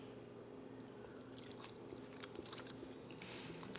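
Someone chews a bite of herb butter roast turkey with garlic and herbs, close and quiet, producing soft wet crunching bites over a steady low background hum.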